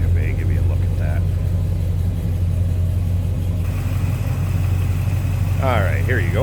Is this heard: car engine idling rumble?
yes